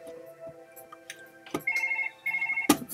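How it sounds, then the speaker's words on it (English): A telephone rings in the video game Surgeon Simulator 2013, an electronic tone repeating in bursts amid clicks and small object knocks, with a sharp clatter near the end. "Phone's fucking ringing."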